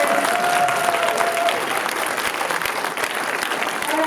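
A festival crowd at a shorts screening claps in a dense, continuous round of applause, loud and close, holding steady for several seconds.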